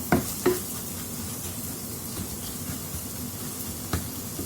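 Spice powders fry in a pan for fish curry, giving a low steady sizzle with a couple of sharp metallic taps at the start and another near the end as the mixture is stirred.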